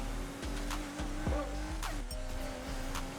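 A car at full throttle in Need for Speed Heat, tearing up a straight road with a sustained, loud engine roar and short bursts of tire noise.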